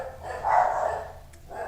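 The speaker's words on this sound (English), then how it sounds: "My dogs are barking." Dogs barking somewhere off in the background: a single muffled, mid-pitched bark, fairly faint and distant, with a softer start of another at the very end.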